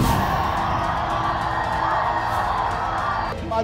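A crowd at an outdoor political gathering in Hyderabad for Madhavi Latha, cheering and whooping with clapping and shouted voices, loud and dense throughout, briefly easing at the end.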